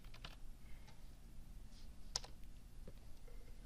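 Someone typing a search into a library database on a computer keyboard, a short run of quiet, close key clicks in a hushed room.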